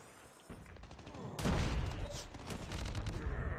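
Rapid gunfire bursts crackle in the mobile shooter game Call of Duty Mobile, quiet at first and then a dense loud volley from mid-clip onward, with brief pauses between strings of shots.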